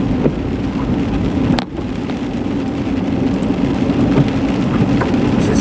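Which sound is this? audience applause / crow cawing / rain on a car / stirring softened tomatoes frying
rain on a car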